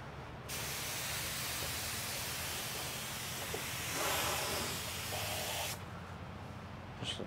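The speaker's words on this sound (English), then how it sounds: "I need to spray it into the garbage can." A paint spray gun blasts into a garbage can in a workshop, a loud, steady hiss that starts abruptly, swells briefly in the middle and cuts off near the end, with low background rumble.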